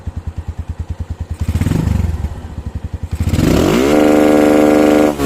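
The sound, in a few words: motorcycle engine revving against programmable CDI rev limiter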